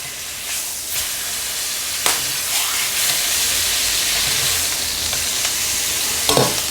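Marinated skirt steak sizzles in a super hot pan with butter, a loud steady frying hiss broken by a few sharp crackles and spits.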